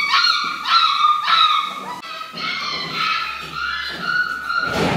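Several puppies at a dog rescue farm in Crete yip, whimper and bark in short, high-pitched bursts, close by and fairly loud, with a continuous chorus of whining and a low rumble in the background.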